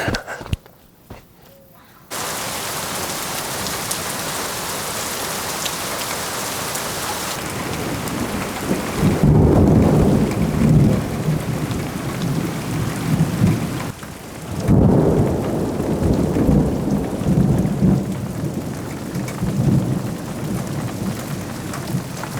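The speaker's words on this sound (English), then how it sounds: "I think we're in the middle of a thunderstorm" Steady heavy rain pours down while deep thunder rolls and rumbles nearby in two long swells.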